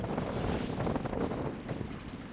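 Steady breeze blowing across Raccoon Lake on a day out fishing, a continuous rushing wind noise buffeting the microphone with faint water sounds beneath, no talking.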